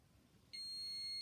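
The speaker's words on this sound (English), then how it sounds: "there we are, it sets the alarm off" A homemade electronic buzzer alarm, built as a simple circuit project and triggered when tape is removed from a protected item, switches on abruptly and holds a loud, steady, high-pitched continuous tone after a short quiet lead-in.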